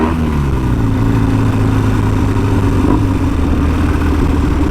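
A Triumph T140 motorcycle engine revs up steadily to about 6,000 rpm, its rumbling pitch climbing as it accelerates, loud and close with no talking.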